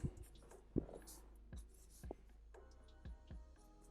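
Pencil sketching on paper while drawing the rib cage of a skeletal anime warrior figure, with scratchy strokes and short taps close by that come in separate bursts, with quiet pauses between them.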